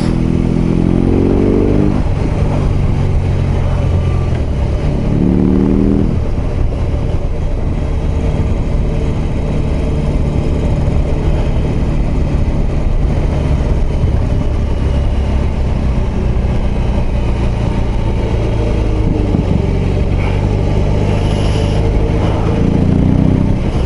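A BMW R18 B bagger motorcycle engine under way, a loud, steady drone buried in heavy wind rush, with a few brief rises in pitch as the rider opens the throttle and shifts.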